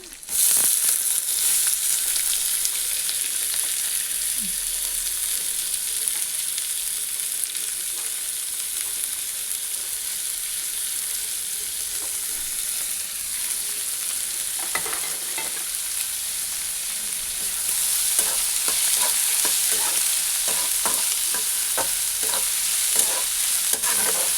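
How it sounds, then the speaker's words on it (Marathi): Onion frying in a pan while being stirred, giving a continuous close hiss of sizzling oil, with scraping and clinking of a spoon that grows busier toward the end. "कांदा भाजून घ्यायचा लालसर"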